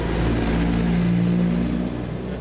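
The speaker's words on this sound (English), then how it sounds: "so there's a tractor coming past" A tractor drives past outdoors, its mid-pitched engine droning loud and close with a steady hum that swells slightly and then eases, with no talk over it.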